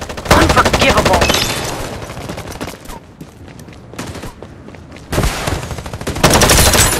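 Rapid automatic gunfire in the shooter video game Farlight 84, loud bursts of firing that drop away to quieter scattered shots mid-way before heavy fire resumes near the end.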